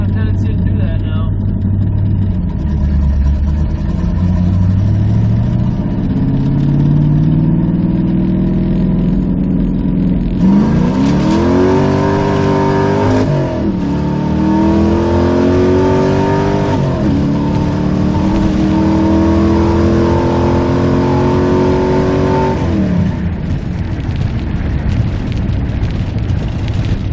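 A car fitted with a rebuilt Holley 4165 carburetor idles, then revs hard and accelerates in first gear, its engine note climbing in repeated sweeps, loud and close, with a person talking over parts of it.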